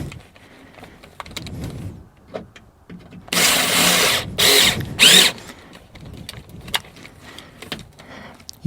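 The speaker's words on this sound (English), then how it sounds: "You don't want to drill through and make the hole bigger, so we're just trying to get this head off." Two short, loud bursts of a power drill grinding off a rivet head on a GM truck door, with quieter handling clatter and shuffling before and after.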